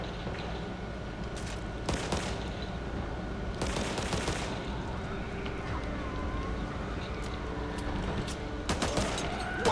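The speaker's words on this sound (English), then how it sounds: "Watch your fucking fire!" Gunfire from the video game Back 4 Blood crackles in several sharp bursts spread across a busy game soundscape, with a faint voice in the mix.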